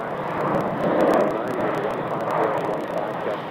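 A Breeze Airways Airbus A220-300 jet departs Phoenix Sky Harbor with a steady, broad engine roar that swells slightly and holds without pause, heard from a moderate distance amid wind.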